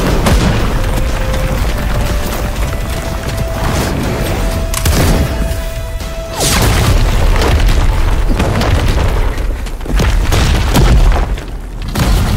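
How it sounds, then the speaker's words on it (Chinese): Glowing blue stones blow up deep in an animated cave with a series of loud, heavy booms and crashing blasts, separated by short rumbling gaps and one sustained tone, with no speech. "洞穴深处有很多这种蓝色石头，应该都是那些怪物收集起来的，打中就会爆炸"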